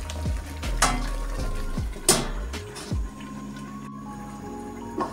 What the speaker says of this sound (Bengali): আবারও ঢাকা দিয়ে কিছুক্ষণ কষিয়ে নেব।